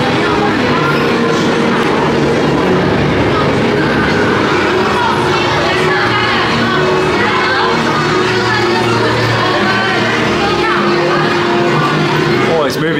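A ride train at Shanghai Disneyland rolls past a busy queue, a constant dense rumble of wheels and machinery blended with crowd noise and chatter, loud and sustained for the whole stretch.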